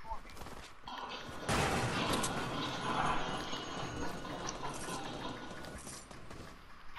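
Gunfire rattles in a Fortnite match, a dense, continuous burst of rapid shots that fills most of the stretch, with a player talking over it.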